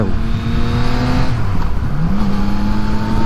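A Yamaha MT-09 motorcycle engine drones loud and close as it rides the coastal road from Weymouth to Portland Bill, its pitch falling and then rising again between shifts, with steady wind rush underneath.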